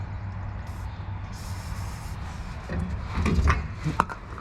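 Penetrating spray is sprayed onto the rear shock bolts of a 2009–2014 Ford F150, with bursts of aerosol hiss over a garage background and a few metallic clicks near the end.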